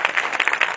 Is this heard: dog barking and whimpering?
no